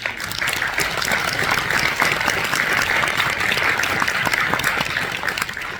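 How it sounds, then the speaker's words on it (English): Steady audience applause, a dense wash of clapping hands that continues evenly throughout without pause. "I'll give them a little applause right now."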